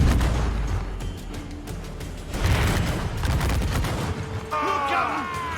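Ship cannons firing in a naval battle in Assassin's Creed IV Black Flag, a series of heavy booms and blasts rolling over each other amid crashing noise, with shouted crew voices mixed in.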